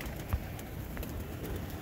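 Pigeons at a pigeon keepers' club, where birds are caught with a net, give faint, scattered coos and soft bird calls over a low outdoor background, with no talking.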